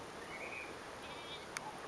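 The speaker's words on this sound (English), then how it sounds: "I hear a sheep" A sheep bleats twice, faint and far off, across the open Pisaq ruins in Peru, with a light breeze and quiet background hiss around it.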